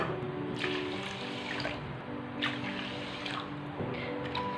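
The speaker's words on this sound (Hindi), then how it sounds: "और इस तरह से हमने इसमें 4 कटोरी पानी डाल दी हैं।" Water poured into a wok from bowls, four bowlfuls for sugar syrup in a home kitchen, heard as a steady splashing pour with a few separate bursts, fairly close and without talk.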